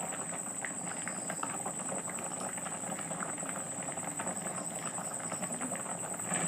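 Water boiling hard in a pot with softened vegetables, a close, steady bubbling and popping that rolls on continuously at an even loudness, with no voices over it.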